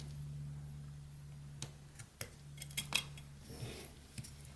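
A whittling knife cutting into a small carved wood piece, shaping the side of a smiling mouth, giving sparse sharp scraping snicks over a low steady hum, close and fairly quiet, with no speech.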